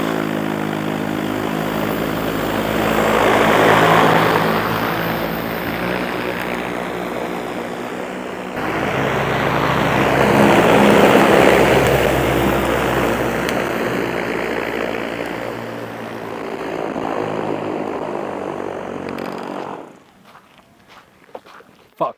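Electric RC hovercraft fan motors running loud and steady with a broad whirring roar, rising and falling in two long surges before cutting out abruptly near the end, followed by a few faint clicks.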